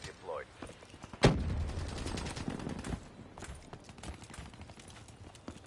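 Rapid gunfire bursts out in Call of Duty Black Ops 3, a sharp loud shot followed by a scattered string of quicker, fainter reports, with a voice talking briefly at the start.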